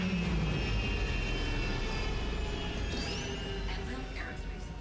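A spaceship engine roars in a video game during takeoff, a steady loud broadband rumble with a whining tone, sounding much like an aircraft engine, holding constant and easing slightly toward the end.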